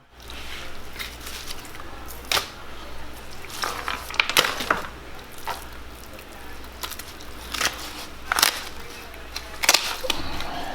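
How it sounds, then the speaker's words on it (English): A knife crunching through fish rib bones in a series of sharp cracks and snaps, close up, over a low background hum. "What you heard was just cutting through the rib bones."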